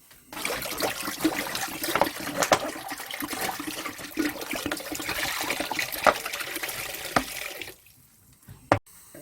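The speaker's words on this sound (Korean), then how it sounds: "물 이거 세병 부었거든요" Bottled water pours from 2-liter bottles into a pot while Korean gochujang is being made, a steady near splashing stream lasting several seconds before it stops, followed by a couple of faint knocks.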